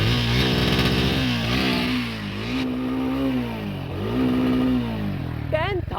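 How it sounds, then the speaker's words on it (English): A 2024 Triumph Speed T4 motorcycle engine starts and revs up and down in repeated swells close by, its pitch climbing and falling, with a voice speaking briefly over it near the end. "And let's start the motorcycle"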